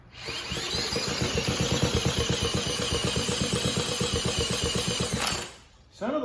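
A late-1940s Clinton engine on a cyclebar, spun by a drill, chugs in a fast, even rhythmic pulse for about five seconds, nearly catching, then stops abruptly.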